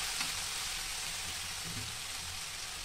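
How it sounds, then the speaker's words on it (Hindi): Spice masala stirred and frying in a pan gives a steady, soft, even sizzle that runs throughout, broken now and then by faint scrapes of the spoon. "इसको चलाएंगे और मसाले को भून लेंगे पहले"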